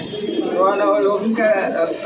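Pigeons brought from a pigeon farm coo close by in soft, throaty rolling calls, with a voice speaking alongside them.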